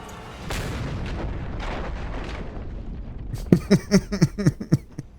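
Grenade explosion in Just Cause 2, a deep rumbling boom that rolls on for several seconds and gives way to a quick burst of rapid pops like gunfire near the end.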